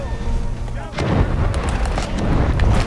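Naval guns boom and stored ammunition detonates in the War Thunder Mobile naval battle game, a dense run of loud blasts and rumbling explosions stacked over continuous battle noise.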